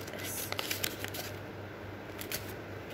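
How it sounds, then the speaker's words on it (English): Sheet paper is folded in half for a three-layer shelf organizer, giving a few close, crisp crinkles and sharp creasing taps over a low steady background hiss. "from this side also we'll fold this paper in the"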